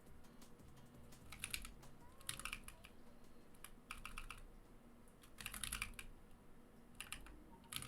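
Rapid bursts of keystrokes on a mechanical keyboard fitted with Durock Sunflower switches, typed in uneven clusters with short pauses, close but fairly soft over a quiet room hum.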